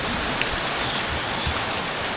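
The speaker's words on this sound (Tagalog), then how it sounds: "Patuloy pa rin po ang pag-ulan." Steady rain falls outside in a power outage, a dense, even hiss that is loud and unbroken throughout, with no voices.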